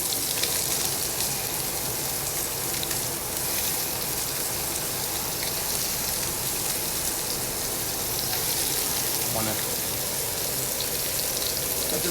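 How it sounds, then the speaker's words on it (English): Scallops searing in a hot pan, a steady loud sizzle and crackle that fills the whole stretch without pause. "Now listen, guys, this is a simple sear."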